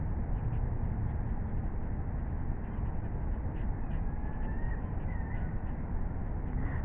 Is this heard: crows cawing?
yes